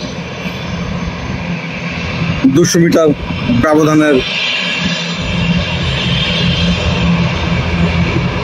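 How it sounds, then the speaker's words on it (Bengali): Airplanes on the runway at Shahjalal International Airport make a loud, steady engine roar throughout. Someone talks briefly over the drone partway through. "দুটি বিমানই সামনে থেকে এগিয়ে আসছে"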